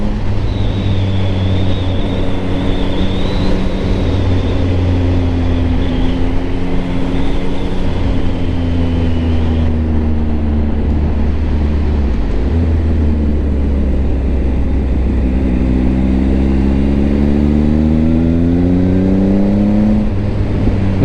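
A Triumph Speed Triple 1050 RS motorcycle on a cold ride roars steadily up close, its engine note rising and falling through gear changes, with constant wind rush and no pauses.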